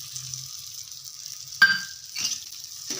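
Green chillies fry in a pan with a bright hiss, broken by a few scraping stirs and light clinks of the utensil against the pan.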